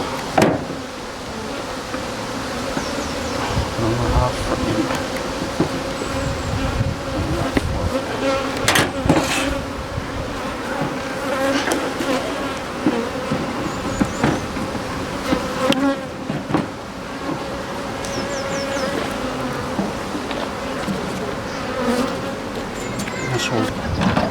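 Honey bees buzz in a dense, continuous hum close by while queen rearing with small polystyrene Apidea mating boxes, punctuated by occasional clicks and knocks from handling.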